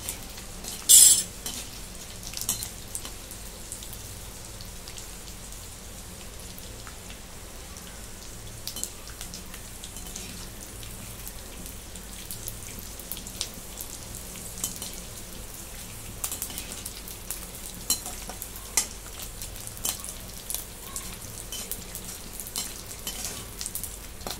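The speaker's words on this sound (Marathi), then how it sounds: "डिंक तळून घेते." Edible gum (dink) fries in hot ghee for nutritious dink laddoos, giving a steady, soft crackle with scattered small pops and a brief clink of a utensil near the start.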